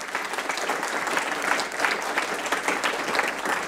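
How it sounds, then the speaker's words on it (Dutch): A room full of people claps steadily after a presentation at a Dutch urban housing event, dense and even applause with no voices over it. "applaus."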